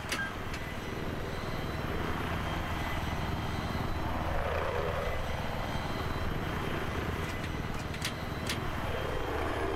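Attack helicopter in Battlefield 3 gameplay, a steady loud rotor and engine drone holding throughout with a few sharp transient clicks, no talk over it.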